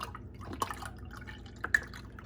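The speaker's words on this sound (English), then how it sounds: "Now we're gonna add our milk." Milk trickles and drips into a pot of dry hot cocoa mix for a toasted marshmallow boozy cocoa, a quiet liquid patter with a couple of brief splashy drops.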